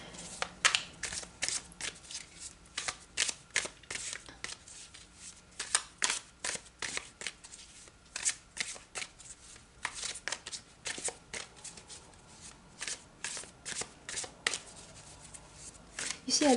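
Tarot cards shuffled by hand for a Celtic cross spread, a steady run of crisp riffling slaps and flutters repeating through the whole stretch, close up with no talking.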